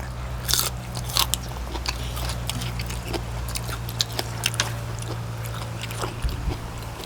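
A dog bites and chews on food, maybe beef or meatballs, in a home where a beef noodle soup is being eaten; sharp crunchy bites repeat irregularly over a steady low hum.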